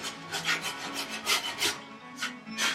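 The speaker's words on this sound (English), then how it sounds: "you can chisel this last bit away" A chisel pares wood from a tenon on a workbench build, a series of short scraping rasps in an uneven rhythm, close and fairly quiet, with no talking.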